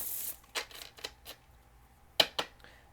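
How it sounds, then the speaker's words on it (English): Tarot cards shuffled by hand in a few brisk, papery riffles and slaps, close and fairly quiet, with short pauses between bursts. "Last shuffle."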